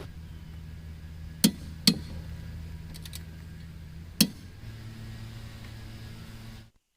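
A torque wrench tightening a Honda lawnmower blade gives three sharp, separate clicks, two close together and one a few seconds later, over a faint low background hum.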